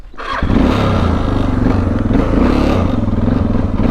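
A motorcycle engine roars steadily up close while riding through woods, with rattling and clattering over the continuous drone.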